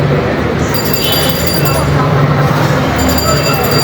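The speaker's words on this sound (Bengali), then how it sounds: "ট্রেনের যে একটা আওয়াজ ছিল" Loud, continuous train rumble with a steady roar and high metallic wheel squeals ringing above it, heard from close inside or beside the moving train.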